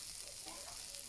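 June beetles roasting with salt in a hot pan, a steady close sizzle and crackle with faint stirring, no talk.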